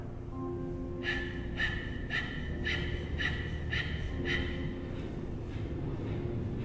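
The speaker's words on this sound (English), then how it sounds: "begin breath of fire" A person practises breath of fire in a yoga session, rapid forceful rhythmic exhalations through the nose, about seven sharp pumps roughly half a second apart, close and fairly quiet.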